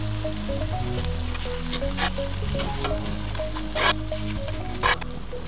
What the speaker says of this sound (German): Den Tomatenmark lassen wir jetzt auch etwas anbraten, lassen ihn karamellisieren im Topf.